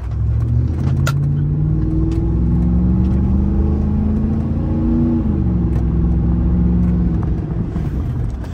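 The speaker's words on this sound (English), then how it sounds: "if y'all can hear the truck on camera, the exhaust system on there" A truck's engine rumbles deep and loud through its aftermarket exhaust on a Long Beach street, with the pitch rising as it revs, holding, then dropping back, close up and without voices.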